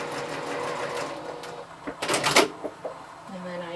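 A sewing machine runs a short quarter inch seam in fabric, a fairly quiet steady whir followed by brief clicks and clacks of handling near the machine.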